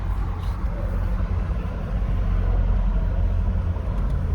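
Steady road and engine noise from a Mercedes SL550 on the move, a broad low rumble with tire hum and no distinct events, heard from inside the car without speech.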